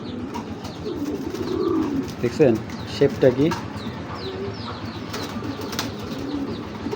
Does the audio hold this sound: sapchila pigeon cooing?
yes